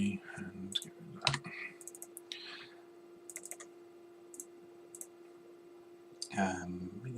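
Keys on a MIDI keyboard clicking in a few scattered, sharp taps, quiet and close, separated by long pauses, with a steady low hum underneath and a brief voice near the end.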